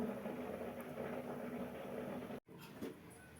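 A mixer grinder whirs steadily as it grinds masala of roasted spices with tomato, chilli, coriander and turmeric powders. The motor cuts out abruptly for a moment near the end, then resumes.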